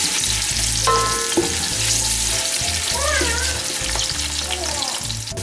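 Onions frying in hot oil in a pan: a loud, continuous crackling sizzle, close by, with occasional scraping stirs and clinks over it.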